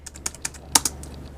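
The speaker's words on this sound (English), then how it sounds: "what I guess you consider to be a full-size chiclet-style keyboard" Typing on the full-size chiclet-style keyboard of a Mid-2010 15-inch Apple MacBook Pro, a quick run of about eight light, close key clicks in an uneven rhythm, heard alone.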